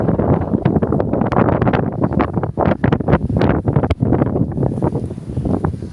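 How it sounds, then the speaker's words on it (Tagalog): Strong wind buffets the microphone on an outing near Mount Makiling and a lake in Calamba, Laguna, a loud, gusty low rumble surging and dropping throughout. "Mahangin siya"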